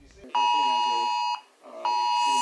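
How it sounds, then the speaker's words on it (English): Loud emergency alert tone on a phone warning of a hurricane, two long sustained electronic blasts separated by a short gap, close and piercing, with brief talk at the start. "See, my phone is going crazy."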